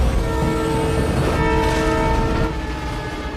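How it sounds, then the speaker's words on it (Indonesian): A train speeds toward a railroad crossing in a Fast and Furious film scene, its loud sustained horn blaring over a heavy rumbling roar, close and overwhelming throughout. "kereta yang melaju dengan kencang menuju ke arah perlintasan"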